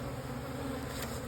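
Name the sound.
honeybees buzzing around a hive being split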